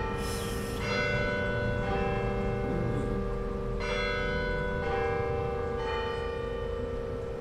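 Carillon bells in Victoria, BC ring out in a sequence of clear, resonant strikes, each note sustaining and overlapping the next in a slow melody, with a couple of notes missing.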